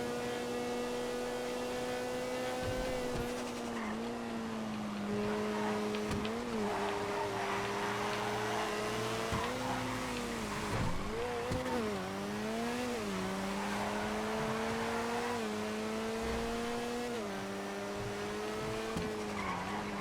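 Race cars lap a banked oval with an infield in GTA FiveM. Several engines drone and rise and fall in pitch as they pass and shift, with tire squeal mixed in, loud and continuous throughout with no talking.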